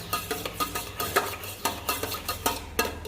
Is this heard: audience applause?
no